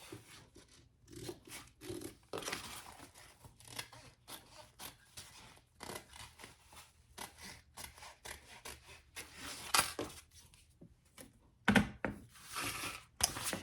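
Scissors or a blade cutting through fabric to trim the bottom off a mini backpack piece, heard as close, intermittent snips and rubbing rustles with pauses between cuts.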